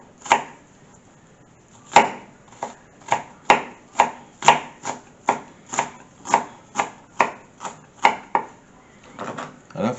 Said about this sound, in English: Cut these up really small, and you don't need a lot of it either. I just use like half an onion.